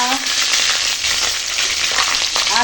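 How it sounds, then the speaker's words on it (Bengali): Panch phoron, green chili and bay leaf hit hot oil and crackle in a loud, close, continuous sizzle with sharp popping spits and no talking. "এখন ওই খিচুড়ি নিরামিষ তরকারিটা বানাবো তার জন্য তেলের ওপর দিয়ে দিলাম পাঁচ ফোড়ন কাঁচা ছেঁড়া লঙ্কা তেজপাতা"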